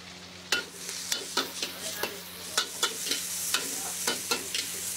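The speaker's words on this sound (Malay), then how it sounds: "Goreng dengan bawang putih sikit." Chicken frying with garlic in an oily pan, a steady sizzle punctuated by regular scraping strokes of a stirring utensil, close and fairly loud.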